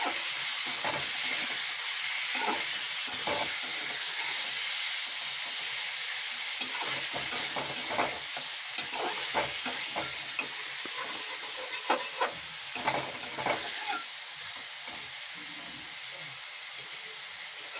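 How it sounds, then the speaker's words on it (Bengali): Chicken pieces, dusted with a little salt and turmeric, fry in hot oil with a close, dense sizzling hiss throughout, punctuated by frequent scrapes and clatters of stirring. "মিটগুলো অল্প করে ভেজে নেব।"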